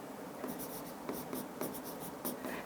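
Faint, close scratching of a pen or pencil on paper, a run of short strokes in an irregular rhythm with brief pauses, in a quiet room.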